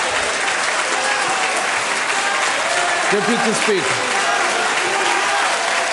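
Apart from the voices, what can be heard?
members of parliament clapping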